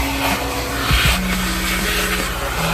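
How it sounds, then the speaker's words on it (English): A vacuum cleaner roars steadily up close while cleaning a 2017 Cadillac SUV, its loud motor whine shifting slightly in pitch as the nozzle moves. "And then just come back and vacuum it up."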